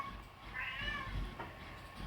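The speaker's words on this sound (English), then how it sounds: "That annoying sound's my cat," A pet cat, upset at being ignored, lets out one drawn-out indoor meow, fairly faint over a low room hum.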